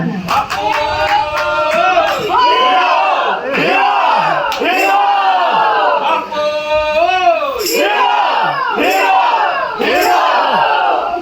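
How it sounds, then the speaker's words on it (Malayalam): A crowd of St. Mary's students cheers in loud, rhythmic shouted chants at a boat race, the rising-and-falling cries repeating roughly every second and a half throughout. "നിങ്ങൾ ഇപ്പോൾ കേട്ടുകൊണ്ടിരിക്കുന്നത് സെന്റ് മേരീസ് സ്റ്റുഡന്റ് ആരവമാണ്"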